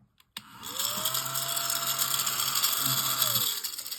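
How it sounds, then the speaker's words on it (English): A small handheld vacuum cleaner motor whirs steadily at a high pitch after a sharp click, rising as it starts and falling away as it winds down after about three seconds. "it's a little vacuum cleaner, and it'll pick up stuff like this"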